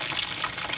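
Water poured onto beans during peeling with a blender makes a brief, steady splashing gush.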